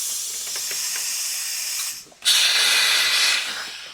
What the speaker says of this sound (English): we're going to go with the clamp machine actually and put it together